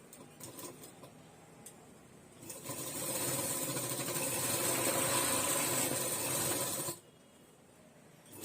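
A sewing machine runs steadily for about four seconds as it stitches along the edge of a blouse. It starts with lighter clicking, runs at a constant mechanical whir, then stops abruptly.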